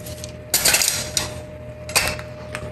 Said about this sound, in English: So I mix coconut cream, sugar, and salt in here